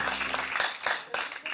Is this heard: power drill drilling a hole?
no